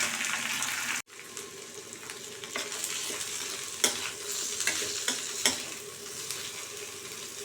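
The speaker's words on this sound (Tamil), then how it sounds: "முதல்ல வெண்டைக்காவை ஒரு கடாயில் போட்டு வதக்கி எடுத்துக்கோங்க" Okra frying in a kadai for a simple Tamil okra curry, a steady sizzle under repeated spatula scrapes and taps, with a brief sharp cut near the start and louder stirring knocks later, no talk.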